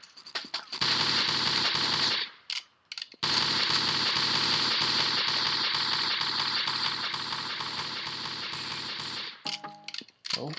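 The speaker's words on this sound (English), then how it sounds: "I get this regular assault rifle back" Assault rifle fire in the video game Marathon pours out in long sustained automatic bursts, loud and close, with two brief gaps and a short pause before tapering off at the end, with no speech.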